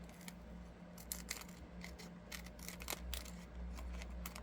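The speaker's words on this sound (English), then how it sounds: "Now what I'm going to do is I'm going to cut this off." Scissors snip through the end of a paper envelope in a quiet room, a series of soft, crisp cuts in an uneven rhythm over a low background hum.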